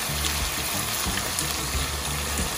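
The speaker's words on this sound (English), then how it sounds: "I'll then add in water." Water pours steadily into a pot of dry okra stew with tomato paste, making a continuous rushing, splashing stream with no talking.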